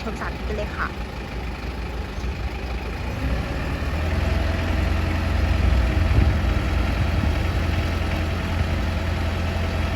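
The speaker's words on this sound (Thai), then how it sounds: "เครื่องยนต์ดีเซล" A Toyota 7FD25 diesel forklift engine idles steadily with a low rumbling drone that grows slightly heavier partway through, with faint background noise and no clear talking.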